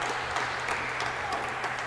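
Clapping from the crowd at a table tennis Champions League match, a steady patter of many hands applauding under a low murmur of voices.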